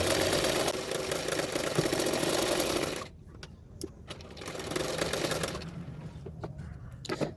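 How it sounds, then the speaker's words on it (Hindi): Sewing machine running a seam along the edges of a blouse lining fabric, a steady loud motor whir for the first three seconds, then quieter intermittent stitching bursts with faint handling noises. "तो मैंने चारों ओर सिलाई कर लूँगी इस तरह से।"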